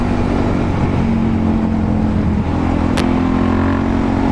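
Suzuki DRZ400 supermoto engine revving during wheelies, a loud, close, continuous single-cylinder drone that holds steady with small shifts in pitch, mixed with wind noise.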